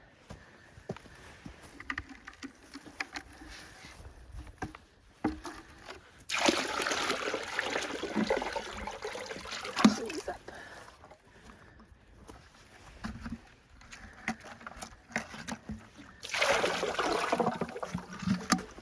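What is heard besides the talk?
water poured into animal water dish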